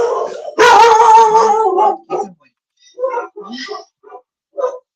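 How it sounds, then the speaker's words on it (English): German Shepherd dogs bark and howl loudly nearby, one long sustained howl followed by short yips and barks with gaps between them. "They will bark. They never shut their mouths."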